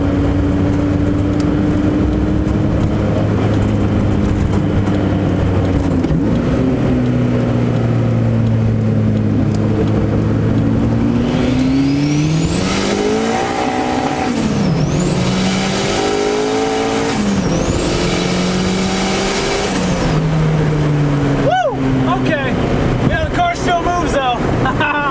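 A turbocharged K20-engined Acura Integra roars on a dyno, its engine drone climbing steadily in pitch through a long wide-open pull, with a high turbo whine rising over it, then dropping back and revving again, loud and close throughout.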